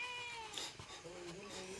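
A cat meows close by in long, wavering, plaintive cries that rise and fall across the whole moment.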